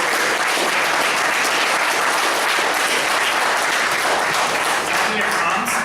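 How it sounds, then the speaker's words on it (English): A large crowd applauds steadily and loudly throughout, a dense wash of clapping hands that barely varies in intensity. "A big round of applause to our"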